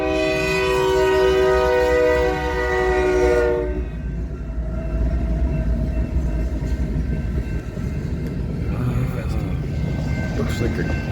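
An eastbound manifest freight train on the BNSF Heartland Division at Pacific Junction sounds a loud, sustained horn, then rumbles and clatters steadily past, with people talking over the noise.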